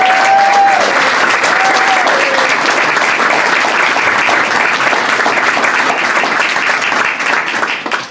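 An audience at a city press conference applauds for City Council President Susan Vessels, a dense, loud wash of clapping that holds steady and fades slightly at the end.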